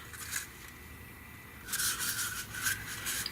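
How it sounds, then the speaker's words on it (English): Burnishing a paper joint on an upcycled watering can handle, soft close rubbing strokes, faint at first and then a run of firmer repeated passes, with no voices. "go ahead and give it a burnish"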